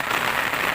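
Steady rain falls during an outdoor video shoot, a dense, even hiss of drops close by and fairly loud, with no voices over it.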